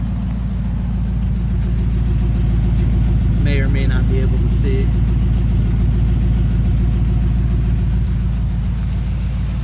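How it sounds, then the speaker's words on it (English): A 1954 Ford Mainline hot rod's deep, rumbling engine idles steadily with a throaty burbling exhaust through 2-inch by 30-inch Smithy glass packs, loud and close, as someone speaks briefly over it. "2-inch by 30-inch Smithy glass packs. Sounds pretty good."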